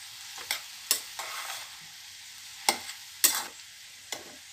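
Green chilies and tomatoes go into a hot pan of frying food, giving a steady soft sizzle punctuated by about six sharp spatula scrapes and stirring knocks, fairly close and with no talking.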